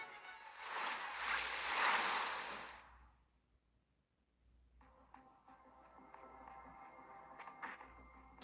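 Ocean waves surge and wash in a broad, loud rush for about three seconds in a video game story scene at sea, then drop away to a quieter stretch with faint tonal and clicking game sounds.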